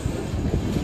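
Harangul–Pune Express rushing past at speed near Hadapsar station in Pune, a steady, loud low rumble with broadband rail and wind noise for under a second.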